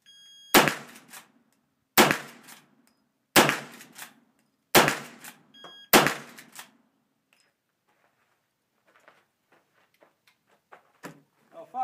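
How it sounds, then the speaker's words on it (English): Five sharp lever-action rifle shots ring out at a steady pace about one and a half seconds apart, each loud and close with a short echo, followed by quiet clicks and handling noises. "That lever action was a lot easier to work than a bolt."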